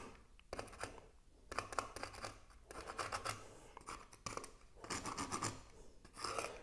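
A pencil sketching a simple tree on the smooth side of a wood piece: quiet, close scratchy strokes come in short bursts with brief pauses between them.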